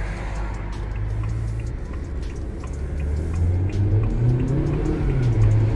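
2022 Haval H6 GT SUV, four-wheel drive, accelerating on a road test drive, engine note rising steadily in pitch and loudness from inside the cabin over road and wind noise.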